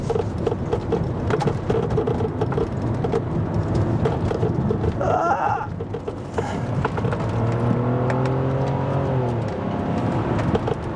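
A BMW 7 Series speeds around the Nurburgring, its engine droning loud and steady over road and wind noise, with the pitch climbing and then dropping as it shifts gear and accelerates again; no talking.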